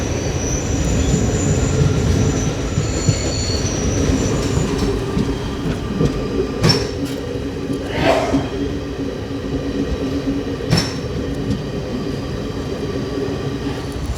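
Vistadome train running on rails in Jharkhand between Ranchi and Giridih, a continuous loud rolling rumble with rhythmic clatter, a few sharp squeals and clanks partway through.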